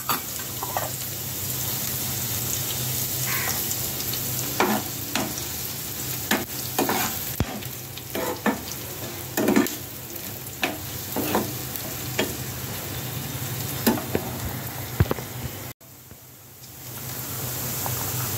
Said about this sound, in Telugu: ఇదిగోనండి ఉల్లిపాయలు వేగుతున్నాయి కదా